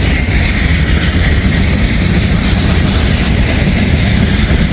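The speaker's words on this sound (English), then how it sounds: "It's not a very long train, like I said" Loud, steady roar of a short BNSF freight train passing near on a spring day, wheels clattering over the rails in a constant wash of rail noise.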